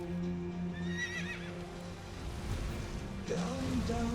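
A horse whinnies with a high, wavering neigh in Elden Ring: Shadow of the Erdtree, then snorts and neighs again later, over a low steady hum.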